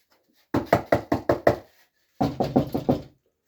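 Two bursts of sharp knocks on a hollow polyurethane foam beehive box, five raps then a pause and four more, close and fairly loud with no talking.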